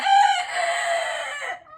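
A rooster crows once, close and clear, a single drawn-out cock-a-doodle-doo lasting under two seconds with no talk over it.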